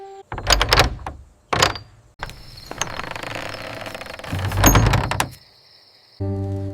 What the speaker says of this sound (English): As his friends rose to leave, a knock sounded at the door, and Vasudev went to answer it.